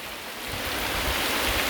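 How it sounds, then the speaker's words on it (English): Heavy rain pouring down outdoors near a creek in Penang, Malaysia, a steady broadband hiss that swells slightly louder and stays constant, close and dense with no voices. "This is how much rain we got here."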